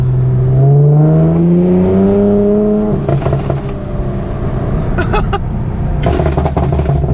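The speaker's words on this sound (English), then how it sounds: "I activate the burble tune, and then from there, all I do is go into manual, rev it down." A car engine in manual mode with a burble tune revs up loudly, its pitch climbing for about three seconds before dropping into a rough, crackling idle. Brief popping bursts follow as the tune fires, with no one speaking.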